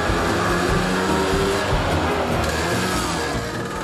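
A delivery truck drives through Munich toward an outdoor market, its engine a steady loud rumble with road noise holding throughout.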